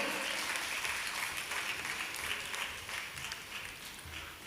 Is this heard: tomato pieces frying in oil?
no